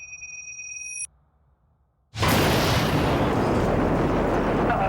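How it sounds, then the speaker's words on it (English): A loud explosion bursts outside the front of a police complex on Russell Street in Sydney, a sudden broadband blast that follows a short electronic tone and brief quiet, then roars and rumbles without letting up. "loud explosions that took place outside the front of the complex"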